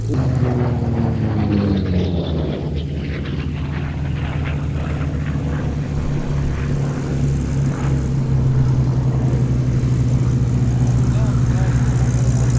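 Grumman Bearcat piston-engine fighter flying at an airshow, its propeller engine droning with a deep steady roar that sweeps past, with a voice speaking over the noise.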